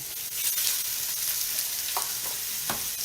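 Mushrooms and shallots frying in butter and oil in a pan, giving a steady close sizzle with a couple of soft stir clicks near the end.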